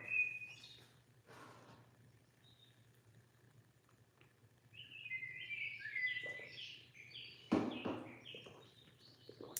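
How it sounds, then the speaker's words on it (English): Recorded bird song plays faintly in the background, with scattered chirps and a few brighter twittering phrases building toward the end over a low steady hum and occasional soft knocks. "I am playing some bird sounds in the background"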